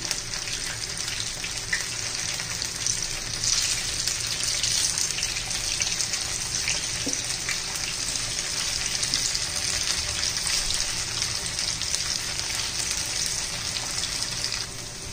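Thick pieces of dill (shepu) vadi shallow fry in oil, a loud, dense, continuous sizzle heard close up and steady throughout, with no talking.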